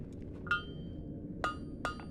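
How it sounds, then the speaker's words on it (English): Three sharp metallic strikes, separated by pauses, from a blacksmith working a garden tool with a smaller hammer, each ringing briefly over a low background hum. "I'm going to take a smaller hammer"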